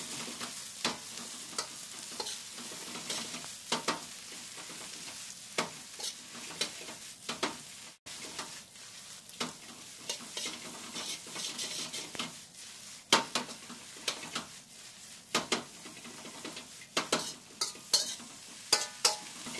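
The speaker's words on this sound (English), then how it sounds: "Should be a nice sizzling sound when you add your veggies" Vegetables, including spinach, mushrooms and beans, sizzle steadily in a hot pan while a spoon repeatedly stirs and scrapes, producing close, irregular clatters over the constant frying hiss, with no one speaking.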